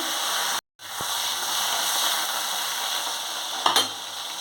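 Brinjal (eggplant) pieces frying in hot oil alongside tangra fish, a steady close sizzle with one brief gap and a sharp spattering pop near the end.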